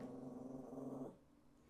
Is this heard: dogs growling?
yes